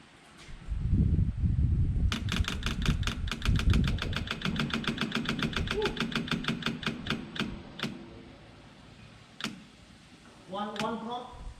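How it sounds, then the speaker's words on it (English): A 1969 Opel GT engine cranks over from cold with a fast, rhythmic starter chatter, then catches and fires into a rough idle, with people talking nearby before and after. "we're gonna do a cold start now on it"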